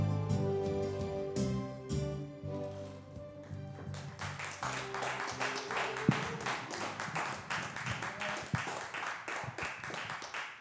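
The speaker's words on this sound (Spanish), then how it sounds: "Muchas gracias por los aplausos." A concert audience breaks into dense applause as a live song's final music fades, many hands clapping loudly and steadily to the end.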